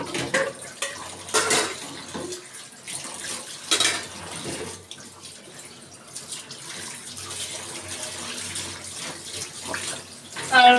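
Tap water runs and splashes in a kitchen sink while a large pile of dishes is washed, with occasional clinks of plates and utensils and bursts of louder flow, close by.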